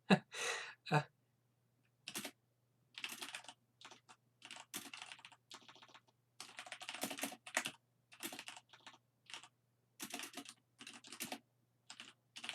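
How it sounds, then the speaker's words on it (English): Bursts of computer-keyboard typing, close and fairly loud, in irregular clusters of rapid clicks separated by short pauses, with no talking. "Apologies whilst I tap away on my keyboard."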